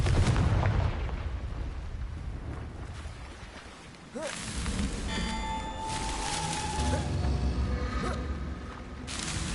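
A Confringo fire spell blasts in Hogwarts Legacy, with loud, rumbling booms and crackling bursts over dense in-game noise. The noise dips briefly partway through, then a fresh blast swells back in.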